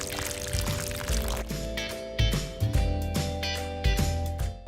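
Water poured in several separate splashing bursts onto pervious and impervious ground surfaces, each pour gurgling and trickling briefly before the next, close and fairly quiet.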